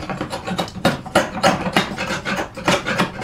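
A chisel pares a wooden tenon in a woodworking shop, a series of short scraping, rasping strokes in an uneven rhythm, close and fairly loud with no voices.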